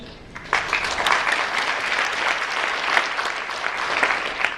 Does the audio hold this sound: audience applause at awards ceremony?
yes